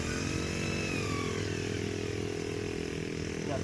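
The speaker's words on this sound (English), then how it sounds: "Got the weed whacker going." A weed whacker drones steadily at a distance, a continuous buzzing engine whine with no pauses, moderately faint and heard alone.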